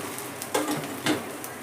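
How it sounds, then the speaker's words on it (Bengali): Paratha frying in a little oil in a pan, a soft low sizzle with a couple of brief louder scraping or flipping sounds, quiet and close. "আমি অল্প তেলেই ভাজছি"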